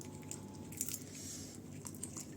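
A pet chews and bites into fried momo at close range, with soft wet crunching and squishing in a quick steady rhythm, no voices heard.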